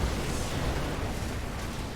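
Siege tank cannon fire from StarCraft II: a dense, continuous barrage of heavy booming blasts, loud and sustained.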